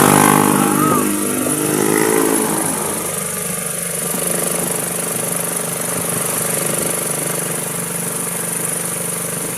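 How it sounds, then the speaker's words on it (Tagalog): A motorcycle engine idles and runs continuously nearby, a steady loud rumble with a slight rev at the start. "Walang patayan ang makina."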